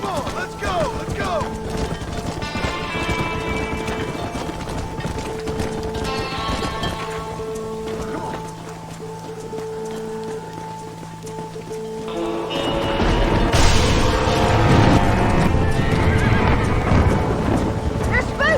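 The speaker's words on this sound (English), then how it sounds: "They're spooked! We have to stop the stampeding!" Spooked horses stampede in a Western video game, with hooves drumming and neighs rising over loud shouting voices, then a heavy rumbling surge as the herd thunders closer.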